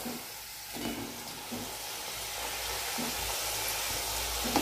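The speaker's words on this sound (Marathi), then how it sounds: "हे पहा अजून तर तळायचं बाकीच आहे।" Khurma (shakarpara) pieces deep-fry in hot oil with a loud, continuous sizzle and bubbling, broken by occasional stirring scrapes.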